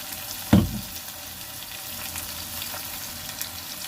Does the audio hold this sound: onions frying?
yes